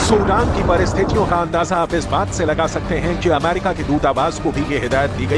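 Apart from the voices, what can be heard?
No everyday noise stands out behind the speech.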